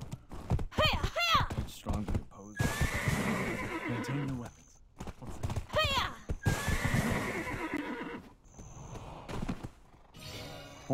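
A horse whinnies loudly twice in Black Desert Online, each call followed by clopping hooves and thuds, with bursts of action noise in between.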